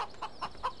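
A rooster in the video game Farming Simulator 17 gives a short run of repeated clucking calls, four or five evenly spaced bursts, close and moderately loud, with no talking over them.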